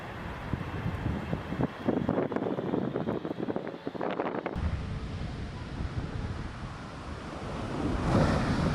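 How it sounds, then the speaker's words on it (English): Ocean surf rolls onto a beach, a continuous roar of breaking waves with wind noise, steady and fairly close, growing slightly stronger toward the end with no voices. "The sea is not always calm, with gentle waves hitting the shore."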